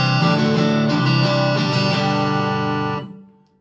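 A used Squier Stratocaster electric guitar on its neck pickup rings out loud and clear through an effects chain, with a strummed chord sustaining for about three seconds before fading out.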